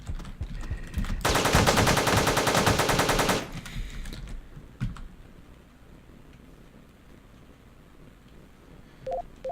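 Machine gun fire in the Teleglitch game, a loud, rapid continuous burst lasting about two seconds, then a few scattered faint clicks and game blips.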